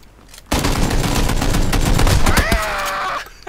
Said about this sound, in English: There's so much shooting.